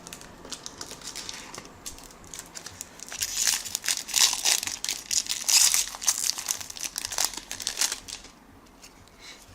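A Magic: The Gathering Theros booster pack's foil wrapper is crinkled and torn open close up, with bursts of crisp crackling rustle that build in the middle and then fade.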